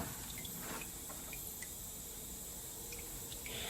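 Engine oil drains steadily from a Mini Cooper R56 into a container, a faint continuous trickle with scattered small drips and splashes throughout.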